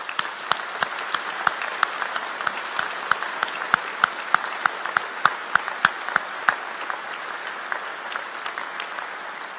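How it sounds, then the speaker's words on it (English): An audience at a college graduation ceremony claps steadily for nearly ten seconds, a dense, even round of applause with sharp individual claps standing out, no talking over it. "please join me in a round of applause"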